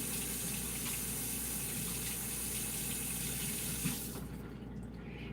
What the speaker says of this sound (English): Let me rinse my hands off really quick.